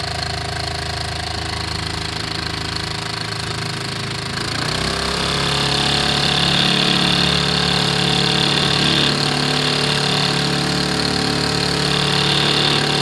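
A small gas outboard motor on a boat runs steadily, then its pitch and volume rise as the throttle opens, settling into a louder, constant drone.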